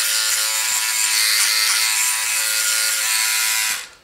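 Philips OneBlade Pro electric shaver buzzing steadily and loud, a constant motor whine that holds for nearly four seconds before cutting off abruptly.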